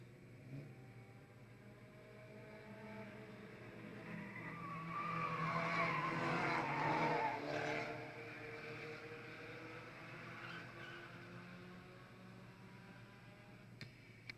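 Stock cars racing on an oval track, including a Ford Probe, roar past as a steady, distant engine drone that swells to a louder pass midway, then settles back to a continuous background hum.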